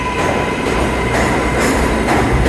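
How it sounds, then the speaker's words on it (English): An NYC subway 7 train departs Hunters Point Avenue station with a loud, close, continuous rumble and roar, rising in surges as the cars pass. "Here goes the 7 train."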